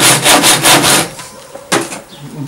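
Close, loud rhythmic rasping strokes of a hand saw cutting through wood while repairing a chair, a quick run of even back-and-forth strokes, then a pause and one more stroke.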